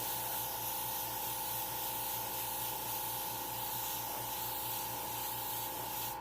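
An airbrush sprays thinned black paint in a continuous, even hiss that holds steady and close for the whole stretch, with no voices over it.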